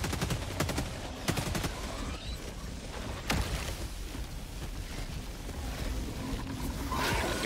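Rapid bursts from the Sickle weapon firing in Helldivers 2: loud, crackling volleys come in quick succession early on, then sparser shots over a noisy battlefield backdrop.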